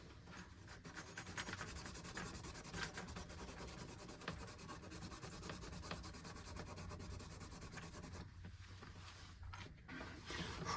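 Steady abrasive rubbing and sanding on a hand-carved pool ball skull, continuous scratchy strokes at close range with no talk.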